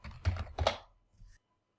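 Several quick keystrokes on a computer keyboard enter the ipconfig command, heard up close as a brief cluster of clicks that ends in silence.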